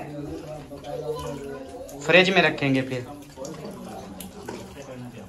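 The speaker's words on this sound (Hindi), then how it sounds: "इधर देखो, पानी भर रहे हो?" Tap water running into a bottle at a home party, a soft trickling mostly buried under close conversation.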